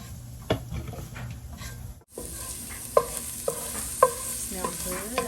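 Garlic stirred as it fries in a pot for spinach beef soup, with a steady sizzle under a string of sharp scraping and knocking utensil strokes, close and fairly loud.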